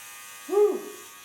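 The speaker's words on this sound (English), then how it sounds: "Okay, put the blade on, put the clipper on." An electric hair clipper fitted with a clipper comb gives off a steady, fairly quiet buzzing hum throughout, with a short voiced sound rising briefly over it midway.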